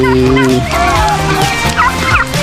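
Loud, close turkey gobbling in a backyard pen among chickens, ducks and geese, with overlapping warbling calls and other birds calling from behind.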